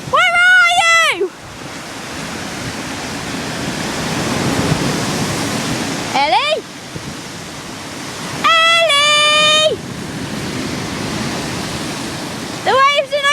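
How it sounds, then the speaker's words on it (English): Steady broadband roar of ocean surf crashing continuously at moderate loudness, with a person's shouting voice calling out repeatedly over the waves. "The waves are no friend today!"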